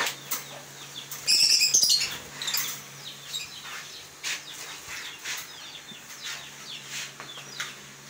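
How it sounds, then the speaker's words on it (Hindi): Pet lovebirds in a cage give a cluster of sharp, high chirps and a brief flurry of wing flapping early on, then scattered faint tweets over steady background hum. "तो चले अभी लव बर्ड्स के पास चलते हैं"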